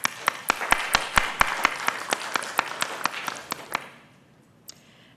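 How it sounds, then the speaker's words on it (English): Audience applause at a hybrid group meeting, a short round of clapping that thins into a few distinct claps, fades out near four seconds, then one last stray clap. "Another round of applause, if you will."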